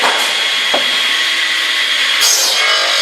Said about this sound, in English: cutting this timber now with a Spider Machinery 3000 Limited. With a saw.